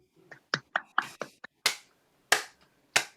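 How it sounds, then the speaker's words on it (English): A small finger clap on a group call, a handful of light, sharp snaps and taps spaced irregularly, close to the microphone and fairly quiet. "I think that deserves a small finger clap."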